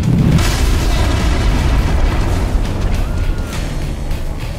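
A grenade goes off in the video game GTA V, a loud heavy boom whose rumble sustains and slowly decays over several seconds.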